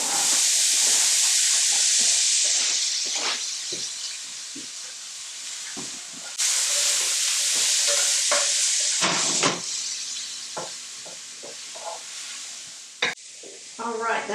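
Garlic and zucchini sizzle loudly in a hot pan, a steady bright frying hiss that surges twice as the pieces go in, with stirring clatter and utensil knocks scattered throughout; no one speaks.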